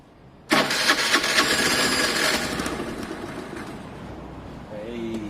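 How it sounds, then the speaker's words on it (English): A Piaggio Fly 50cc scooter starts with a sudden loud burst as the starter turns the engine over, then settles into a steady, fairly close running buzz. "You shouldn't hold the starter for more than 10 seconds at a time"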